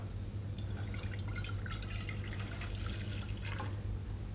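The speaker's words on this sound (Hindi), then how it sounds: "पानी ले लेते हैं हम" Water poured into a cooking pot while making an oil-free soup, a steady splashing, trickling flow heard close by at moderate level, continuous for a few seconds with no talk over it.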